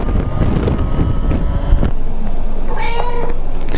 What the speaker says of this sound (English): check out my bonus cat